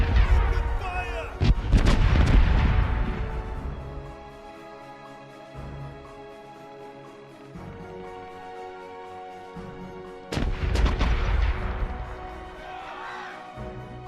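Ship cannons in the naval game Corsairs Legacy fire a broadside in two loud booming bursts separated by a quieter stretch, with deep rumbling echoes and creaking tones between the volleys.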